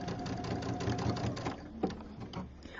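A sewing machine with a standard J-foot stitches a quarter-inch seam in a steady, close mechanical whir of rapid needle strokes that slows slightly near the end.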